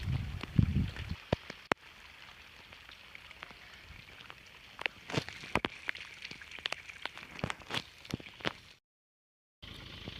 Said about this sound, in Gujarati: વરસાદ પણ ચાલુ થઈ ગયો છે થોડો થોડો